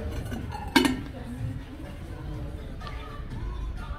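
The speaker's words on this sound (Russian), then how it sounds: "кофейный сервиз, очень хороший, полный причем" Porcelain coffee set dishes clink once sharply as they are handled at a flea market, followed by faint clatter under a low background murmur of a crowd.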